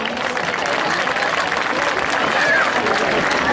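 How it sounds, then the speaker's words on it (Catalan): Audience at a town associations fair in l'Olleria applauds with loud, continuous clapping blended with crowd noise and talk throughout. "Ese aplaudiment que s'emporteu de l'Olleria."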